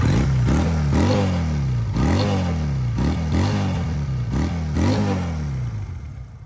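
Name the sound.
Honda CD 200 Roadmaster dual-cylinder motorcycle exhaust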